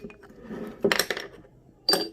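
A spoon clinks against a glass while stirring iced milk coffee, with two bright close clinks about a second apart over a faint stirring rustle.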